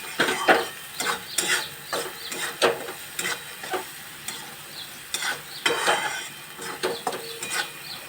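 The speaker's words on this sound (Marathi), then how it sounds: "तेल सुटेपर्यंत त्याला छान परतून घ्यायचं।" Jackfruit masala stir-fried in hot oil in a pan, a steady sizzle broken by repeated sharp scrapes and clinks of the spatula against the vessel, close up, with no talking.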